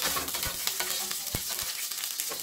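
Garlic sautés in hot cooking oil, a constant bright sizzle close up with a few soft stirring knocks, no speech.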